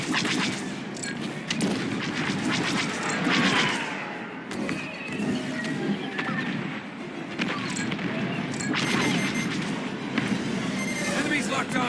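Starfighter laser cannons fire in rapid bursts during a Star Wars: Squadrons space battle, with repeated sharp shots over engine rumble and game voices talking between volleys.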